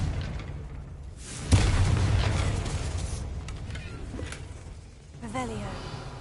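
Confringo blasting spell in the Hogwarts Mystery game, a sharp burst followed by a rumbling boom that slowly fades, with another softer swell near the end, layered over game ambience.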